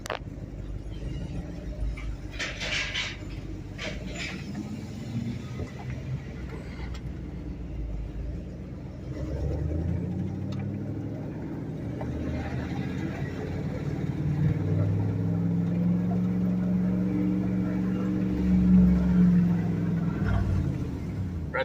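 A yard truck driving in a yard, with a low engine rumble that builds gradually and stays steady and fairly close, with no voices over it.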